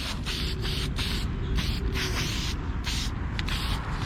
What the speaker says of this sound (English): I'm going to take it outside and throw a little bit of spray paint on it